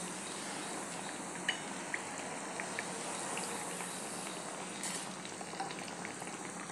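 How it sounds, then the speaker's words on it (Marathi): Khadugali, a sweet chakli-style dough snack, frying in hot oil until golden, with a steady dense bubbling sizzle throughout and a few faint ticks and pops, close and even in level with no talk. "आता हे जरा सोनेरी रंगावर येईपर्यंत आपण तळून घेऊया"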